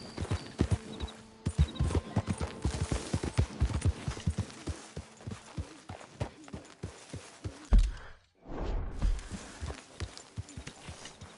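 A horse gallops in a PS4 video game, its hooves drumming out a quick, steady clip-clop rhythm close by, then briefly dropping out before the pounding resumes amid a low rumble.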